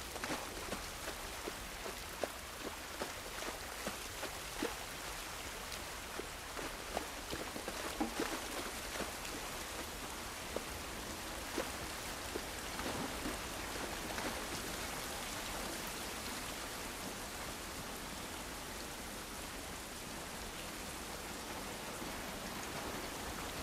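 Steady rain pours down outdoors in the video game The Last of Us Part 1, a dense, even hiss of drops on surfaces that runs unbroken throughout with no talk.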